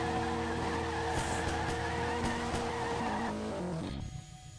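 A loud video game car engine revs and tires squeal and skid continuously, with sharp clicks along the way, before the roar cuts off abruptly near the end.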